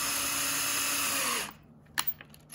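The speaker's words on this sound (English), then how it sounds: "we'll want to drill out just below on the bottom for the neck" A power drill bores into a birch log for a carved reindeer's neck, a loud steady high-pitched whine for about a second and a half that cuts off, followed by a few short clunks and knocks.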